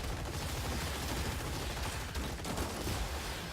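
Rapid machine gun fire from the robot combat game Gladiabots, a dense continuous burst of shots running steadily throughout at moderate loudness, with no talking.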